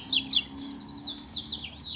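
Double-collared seedeaters sing in competition, bright high chirps and quick twittering phrases close by, with two sharp notes at the start followed by a running warble.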